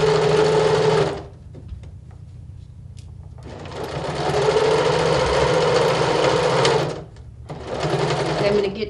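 A sewing machine stitching in quick bursts, with loud, close, rapid whirring runs broken by two brief pauses.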